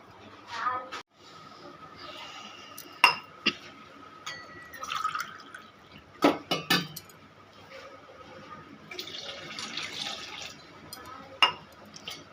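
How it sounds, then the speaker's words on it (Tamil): Water splashes and trickles into a metal cooking pot on a stove, several short pours with clinks of a glass against the rim, while a person talks over them. "நாலு கிளாஸ் தண்ணி ஊற்றிக்கலாம்"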